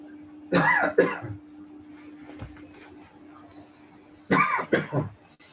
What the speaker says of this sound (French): C'est quoi cette toux?